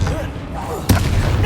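A Bombarda spell blast in Hogwarts Legacy goes off as one sharp, sudden boom partway through, cutting through the battle noise and a voice heard before it.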